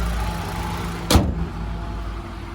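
A 2019 Mitsubishi ASX LS idles with a steady low hum, close and even, interrupted midway by a brief sharp whoosh or click; no talking.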